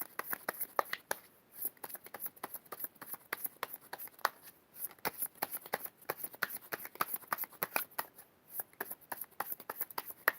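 Rapid riffling clicks of a deck of tarot cards being shuffled, repeating in quick bursts over about ten seconds, close and fairly quiet.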